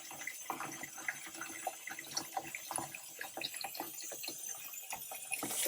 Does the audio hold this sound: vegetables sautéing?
no